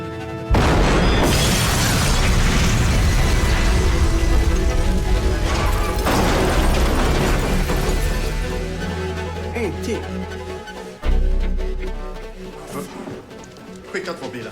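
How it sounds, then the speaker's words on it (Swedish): Explosion in a Wallander crime drama in Ystad, Sweden: a loud, sustained boom with crashing debris and shattering fills the opening seconds, then fades into a low rumble before a second heavy hit near the end. "Såg du explosionen?"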